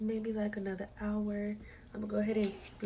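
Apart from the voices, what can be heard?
No distinct noise like a dog, phone or traffic.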